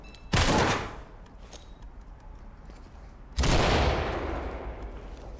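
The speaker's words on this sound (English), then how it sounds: "Use the shotgun on the door, yep. Then clear it with bangs." Shotgun blasting a door open and flashbangs going off in a SWAT-style video game: two sharp, loud bursts about three seconds apart, each decaying into a long rumbling tail.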